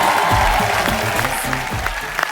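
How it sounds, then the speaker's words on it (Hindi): A studio audience at a comedy talk show claps in welcome, a broad wash of applause with some other sounds mixed in. "जोरदार तालियों से स्वागत होना चाहिए"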